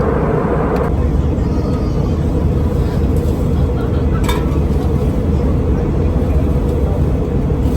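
Steady, loud broadband roar inside a jetBlue Airbus A320 cabin descending toward JFK, a constant rumbling drone throughout with no distinct events.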